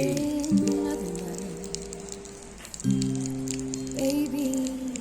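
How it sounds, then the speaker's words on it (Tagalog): Rain falling outdoors behind a university campus in Davao under a darkening sky, a steady patter across the background with tonal sounds layered over it. "At umuulan."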